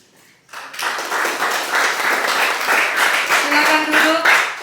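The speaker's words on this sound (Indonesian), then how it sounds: "kita memberikan tepuk tangan" Church congregation at a Methodist Sunday service applauding, with steady, dense clapping that starts abruptly and holds for several seconds under a faint tonal background.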